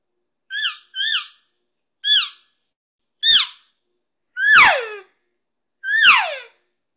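Hand-blown elk calls imitate a wandering calf and its answering cow: six separate squealing, downward-sliding mews, four short high calf-like chirps followed by two longer, louder cow calls, close and alone with brief silences between.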